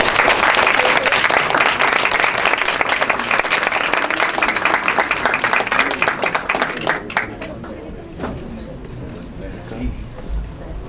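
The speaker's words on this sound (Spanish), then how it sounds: "Un aplauso también para el embajador Mateos." An audience applauds an ambassador at a debate on the Iranian nuclear program, steady loud clapping for about seven seconds that then thins out and fades into scattered claps and room noise.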